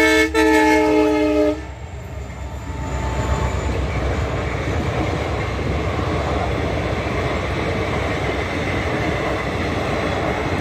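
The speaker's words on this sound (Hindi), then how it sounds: "फाटक बंद हो गई है भाई और ये ट्रेन आ गया।" A train arriving at a closed railway crossing in India sounds a loud horn blast, then a steady, heavy rumble of wheels and carriages rolls past nearby, with no talking.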